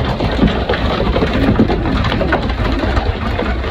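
A flock of pigeons being fed grain, in a busy commotion, with a continuous dense bed of fluttering, scuffling and faint coos close by, no talking.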